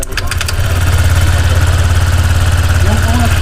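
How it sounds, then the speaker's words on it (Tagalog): A Honda Click 125 scooter engine with a hard-starting, knocking fault idles close by with a steady low throbbing rumble, after a few sharp clicks at the start. "Tapos, tunog ng makina ito."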